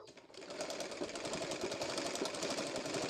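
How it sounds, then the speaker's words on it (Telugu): A sewing machine runs continuously, stitching a petticoat seam, with a steady, dense mechanical whir and rapid needle rhythm. It sounds close and fairly loud, with no talking. "ఇటు తిప్పేసి ఇటు సైడ్ సగం నుంచి కుట్టు వేసేసుకుంటూ రావాలి"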